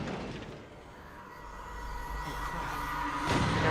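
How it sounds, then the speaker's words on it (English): A train car crashes in the Alan Wake video game: a rolling, metallic rail-like rumble builds gradually and peaks in a louder burst near the end, with no talking. "Oh, that's a train car."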